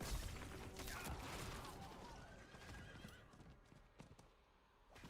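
A horse whinnies loudly near the start while hooves clip-clop steadily throughout, with busy game-like background noise, in Diablo 4.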